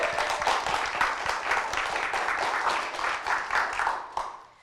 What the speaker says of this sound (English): a big round of applause for our judges